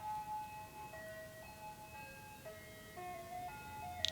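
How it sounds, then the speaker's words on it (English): Tinkly ice cream truck jingle from a show's soundtrack, a steady chiming melody of sustained electronic notes playing alone and moderately loud, with a brief bright clink at the very end. "if you can hear it, it's the ice cream truck again"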